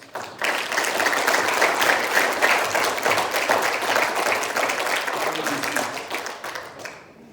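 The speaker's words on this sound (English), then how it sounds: "Another round of applause." A church congregation breaks into loud, sustained applause during a service, the dense clapping rising quickly, holding steady for several seconds, then tapering off near the end.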